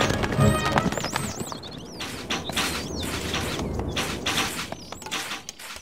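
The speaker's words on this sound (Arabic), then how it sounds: "الفرس تعدو." A galloping horse in the medieval strategy game Stronghold Crusader, its rapid clip-clopping hooves running steadily for several seconds alongside creaks, faint bird chirps and other game effects.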